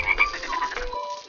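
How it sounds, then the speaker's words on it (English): Cartoon frogs croak in a kids' superhero city-care game, a quick series of bright, close croaks heard alone with no talking. "Uh-oh, there are some frogs on the street."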